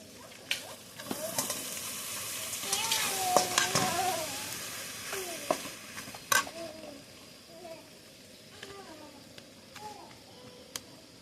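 Soft sizzling and scraping in a pan as soaked puffed rice is stirred without water, with occasional clicks of a utensil against metal, moderately quiet throughout.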